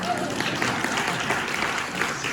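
Applause from a convention crowd at a district political gathering, a brief burst of many hands clapping at moderate volume, with some voices mixed in.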